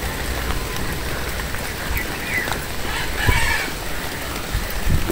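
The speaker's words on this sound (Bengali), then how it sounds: "দিন ভরে বৃষ্টি হইতেছে।" Steady rain falls after a night storm in a Bangladeshi village, a constant close hiss of drops on surfaces with a few louder spatters and a faint bird call.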